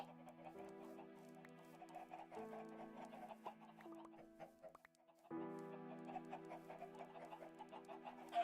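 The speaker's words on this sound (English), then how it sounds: "So many chickens in my little chicken coop." A flock of chickens clucks steadily inside a small backyard homestead coop, soft and fairly distant, with overlapping calls and a low steady background hum.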